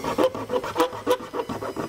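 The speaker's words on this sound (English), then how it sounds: "you just kind of go back with your file and kind of work it at a few different angles, and that way you're gonna get these burrs off." A hand file deburrs the cut metal edges of a Draw-Tite Max-Frame trailer hitch receiver, giving close, rhythmic rasping strokes, about six back-and-forth scrapes in quick succession.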